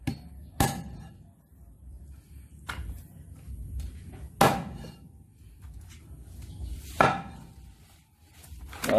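Chicken being chopped into large pieces with a cleaver on a wooden board, four heavy, spaced thunks ringing out over low background noise, close and loud.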